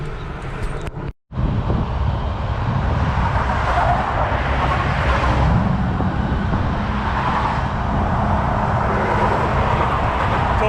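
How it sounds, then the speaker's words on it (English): A flatbed tow truck arrives at the scene of a broken-down Lexus SC300, its engine a steady loud rumble close by, with continuous vehicle noise and no talking. "Tow truck just showed up."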